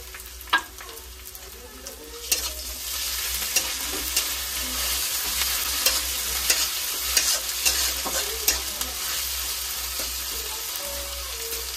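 Ginger-garlic paste fries with onions in a pan, giving a continuous close sizzle. It is broken by repeated scraping stirs and a few sharper knocks against the pan, and a low hum sits underneath. No voices are heard.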